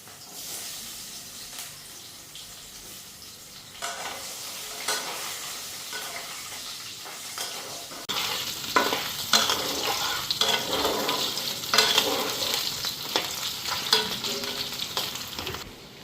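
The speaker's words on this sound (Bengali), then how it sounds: "আলুটা আগে ফ্রাই করে নিই" Potato pieces fry in hot oil in a pan, a steady sizzle with stirring scrapes that turns louder and harsher partway through as the food is moved around.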